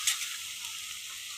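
Ginger garlic paste frying in oil while chana dal pulao is being made, giving a quiet, steady hiss of sizzling that stays even through a brief moment with no voices.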